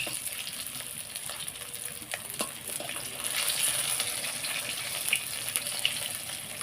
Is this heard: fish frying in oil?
yes